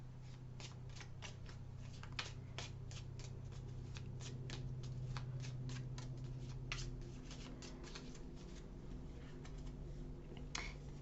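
Tarot-style cards shuffled by hand for a reading, a long run of soft repeated riffles and taps at an even pace, quiet and close, with no speech.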